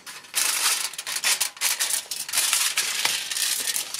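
Aluminium foil is cut and handled up close, giving dense crinkling and crunching rustles that come in rapid bursts for several seconds.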